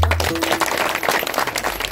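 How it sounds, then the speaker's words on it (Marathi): A crowd applauds the two mridang drummers at a kirtan during a foot pilgrimage from Shahapur to Alandi, with dense, steady clapping filling the whole moment. "अगदी दोघांसाठी टाळ्या वाजवा"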